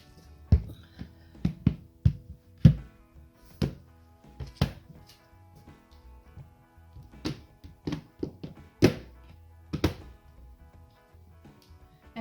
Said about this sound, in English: I keep hitting everything with my nails.